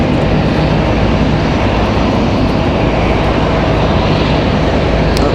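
A Boeing 777 with GE90 engines roars loud and steady at an airport, a continuous broadband jet rumble that holds without pause throughout.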